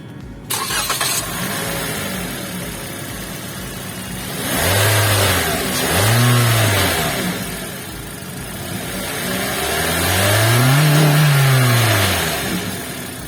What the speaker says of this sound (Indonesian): Sekarang kita pengen coba denger mesinnya kayak apa.